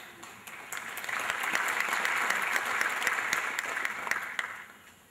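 An audience at a university postgraduate school annual lecture bursts into applause that swells quickly, holds as a dense clatter of many hands, then tapers off near the end, with no voices over it.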